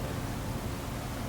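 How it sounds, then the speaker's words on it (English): A field recording of a very windy day plays as a steady, dense broadband rush of wind with no distinct events, moderately loud and unbroken. "So, sounds like this is a field recording of just like a super windy day."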